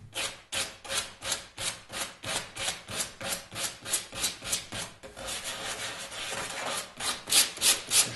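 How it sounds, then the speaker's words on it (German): Wooden corners of a cajon being rounded off by hand sanding, a steady rhythmic rasping with regular back-and-forth strokes, close and fairly loud, turning faster and rougher toward the end. "schleifen wir hier die Ecken weg"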